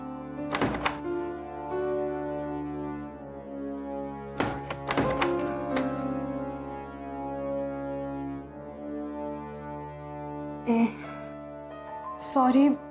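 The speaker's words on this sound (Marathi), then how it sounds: "मी सारखं दार वाजवत होते" Sharp knocks land on a house door in quick clusters, several rounds spread out over time, with someone speaking in between.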